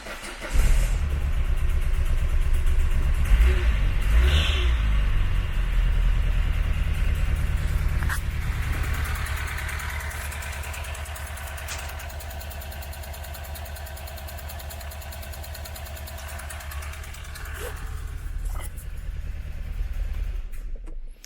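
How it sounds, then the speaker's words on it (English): A 1992 Renault Clio MK1 engine starts and runs at a loud, rough idle that shakes and surges unevenly, heard up close with no talking. "it's got a very shaky, very uneven idle"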